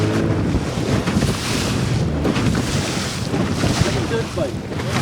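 A new boat pounds through big waves on Lake Michigan in March, engine drone mixed with slapping water and heavy wind buffeting the microphone, steady and close throughout.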